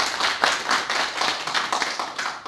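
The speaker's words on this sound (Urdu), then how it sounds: "تالیاں بجا دیجیے ایک دفعہ۔" Audience applause at a book launch for Akhtar Ayub's first book, steady rhythmic clapping from many hands filling the room for a couple of seconds with no voices.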